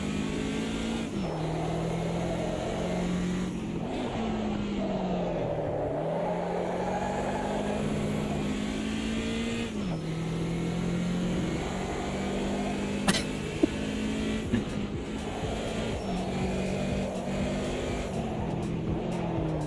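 A race car engine in the Automobilista 2 sim racing game drones continuously, its pitch climbing and dropping through repeated gear changes and braking, steady and uninterrupted.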